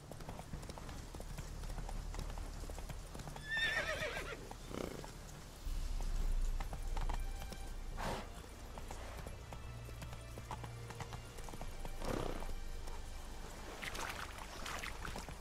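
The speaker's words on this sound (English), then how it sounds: "That's it, Roach" Hooves of the horse Roach from the video game The Witcher 3, a steady clip-clop of galloping under continuous game ambience and rumble, with a brief flutter of higher effect sounds early on.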